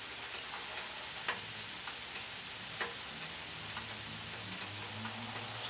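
Sesame oil sizzling in a pan with mushrooms while cooking vegan red curry ramen, a soft, steady crackling hiss with scattered light pops and a low background hum, fairly quiet and without speech.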